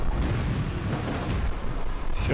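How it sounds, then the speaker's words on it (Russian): Explosions blasting zombies in the mobile racing game Hill Zombie Racing: Earn To Climb, a continuous rumbling roar of booms that swells again near the end, loud and dense throughout with no clear gaps. "Все взрываем здесь."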